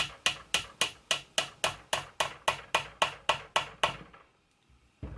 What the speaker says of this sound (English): so you may have to send it home with a hammer.